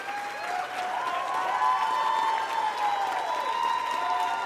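A live audience applauds and cheers, a sustained wash of clapping with some voices rising over it, fairly loud and continuous.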